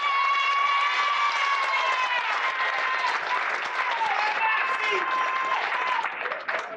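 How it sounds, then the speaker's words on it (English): An audience at a 30th anniversary dance celebration gives a sustained round of applause, loud and steady for several seconds. Tonal music rings out above the clapping. "I think that deserves a big round of applause"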